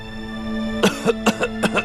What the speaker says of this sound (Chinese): 一直咳嗽不停